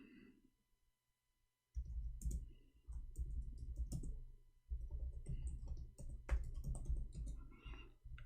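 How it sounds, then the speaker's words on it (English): Someone types on a computer keyboard with quick, close, irregular clicks coming in bursts after a short quiet start. "I'm typing in Arabic all this time."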